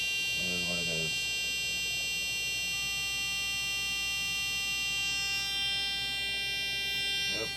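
A Simplex 4100 Classic fire alarm panel sounding during reset, a continuous electronic buzzing tone that holds steady throughout, with a person briefly speaking near the start.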